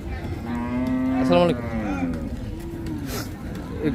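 A cow lows in one long, loud call at a busy cattle market at Hazratpur haat, with crowd chatter and talking mixed underneath and further murmurs after the moo fades.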